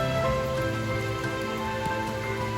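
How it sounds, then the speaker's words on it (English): Heavy rain pours down at a temple in Chiang Mai, a dense continuous hiss of water with a steady tonal hum running underneath, close and fairly loud throughout, nobody talking. "all of a sudden it started pouring"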